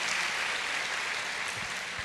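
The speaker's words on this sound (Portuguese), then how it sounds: "Você pode aplaudir a Jesus?" A church congregation claps and applauds for Jesus during a sermon, a dense, steady wash of many hands filling the room without pause.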